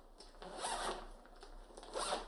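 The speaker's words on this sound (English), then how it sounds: "the zipper is a little bit tight. It's a little bit hard to zip up sometimes." The zipper on a Yoyovac vacuum compression bag is pulled shut, a tight, stiff zip. It gives two raspy, scratchy strokes, close and clear, with no talking.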